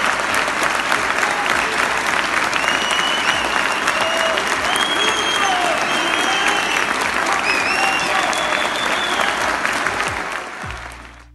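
A theatre audience in Curitiba gives a standing ovation during a urologists' congress: loud, dense, sustained clapping with a few whistles and cheers mixed in, fading out at the very end.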